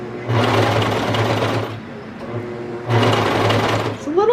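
A sewing machine stitches a hem on a kid's raglan T-shirt in two close bursts of rapid whirring, with a short pause between them.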